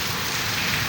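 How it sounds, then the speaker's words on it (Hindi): Steady rain falling outdoors, a continuous dense hiss of drops at even loudness, close and alone without any voices. "अभी इस वक्त यानी कि बिल्कुल ही बारिश है"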